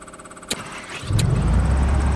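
Piper PA-38 Tomahawk piston engine starting in the X-Plane 11 flight simulator, with a couple of sharp clicks and then the engine catching into a loud, steady low rumble.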